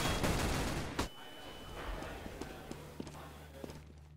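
Gunfire in a CS:GO tournament match: a loud blast opens, followed by scattered sharp, distant shots over the game's background noise.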